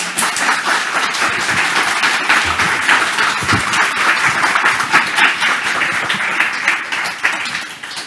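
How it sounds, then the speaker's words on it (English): A large audience at a Sydney Opera House event on performing arts and disability gives the panellists a warm round of applause, loud and sustained, tapering slightly toward the end. "yes, a big warm applause"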